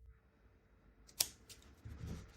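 Crochet yarn tail on a small pumpkin basket being snipped with scissors, one sharp close cut in a quiet room followed by faint handling rustle.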